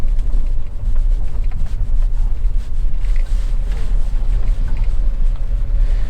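A Hyundai Casper drives in snow mode, giving a loud, steady low rumble of road and wind noise inside the cabin that carries on unbroken throughout.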